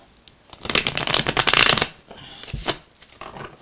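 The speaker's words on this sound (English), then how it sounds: "Just two more shuffles here to go." Riffling shuffles of oracle cards, a dense fluttering burst lasting about a second, then a shorter second shuffle after a pause, close and fairly loud.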